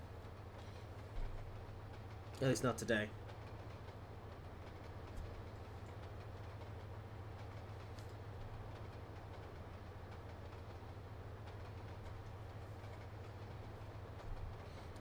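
A freight train runs along an electrified route in Trainz Simulator 2 on the Razorback line, giving a steady low rumble throughout with one short burst of clattering early on and a brief spoken remark.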